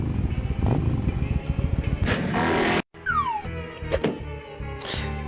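A motorcycle engine roars in the Spy Fox 2: Some Assembly Required video game, loud rumbling revs during a stunt, then a brief silence and a rising whoosh with thumps and clanks.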